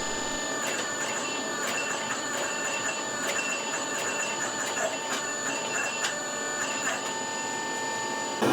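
A forging press with dies squeezes a ladder-pattern damascus steel billet, producing a steady mechanical hum and whir with faint rhythmic clicks and creaks throughout.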